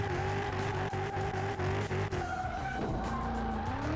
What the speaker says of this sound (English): This thing is burning the rubber.